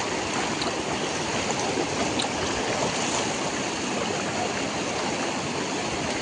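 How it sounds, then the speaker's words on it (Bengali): Floodwater rushing fast along a flooded road during a severe flood, a dense, constant roaring wash that stays loud and even from start to finish with no pauses. "আর জলের স্রোতটা দেখো কত স্পিডে জল যার"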